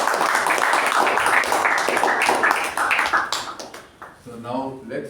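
A round of applause at a Toastmasters meeting, dense steady clapping from a room of people that fades out after about four seconds, followed by a voice speaking.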